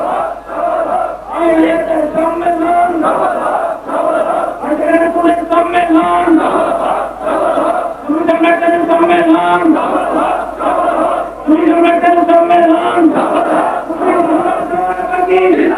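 Massive outdoor crowd of hundreds of thousands chanting slogans in rhythmic waves at a large 1999 religious gathering in Bangladesh, loud and dense, with bursts of collective shouting rising and falling throughout.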